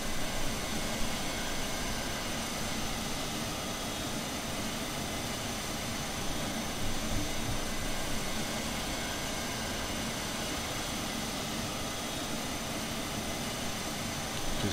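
An elevator in the video game Xenosaga Episode I gives off a dense, constant broadband hum and rush, steady and fairly loud throughout with no speech.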